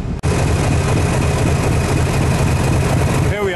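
Diesel heritage train engine pulling away in the Forest of Dean near Parkend, a loud, steady low rumbling throb that starts abruptly and continues close by before easing at the end.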